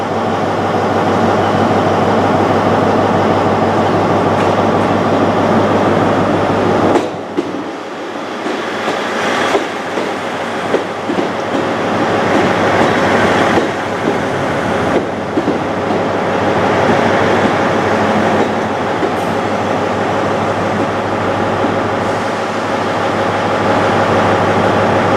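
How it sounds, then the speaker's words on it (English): A single-car Class 159 diesel unit, a terminating service from London Waterloo, arrives at Exeter St David's station with a loud sustained engine roar and rumbling wheels, briefly easing then continuing close by. "also arriving in is the 1042 terminating service from London Waterloo. Formed of a single 159"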